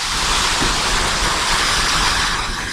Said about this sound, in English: it's pouring here, man.